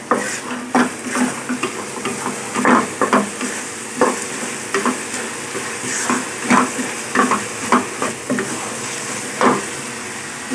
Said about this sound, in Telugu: మీడియం ఫ్లేమ్లో పెట్టుకొని ఫ్రై చేసుకోండి.